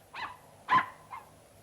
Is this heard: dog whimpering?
yes